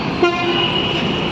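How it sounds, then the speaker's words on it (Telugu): A brief horn toot over a steady rumbling of an amusement park ride train running along, close by. "ఇక్కడ మేము ట్రైన్ ఎక్కుతున్నాం"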